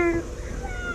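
A single short meow-like cry, close and clear, lasting under a second; it sounds like a person imitating a cat's meow rather than a real cat.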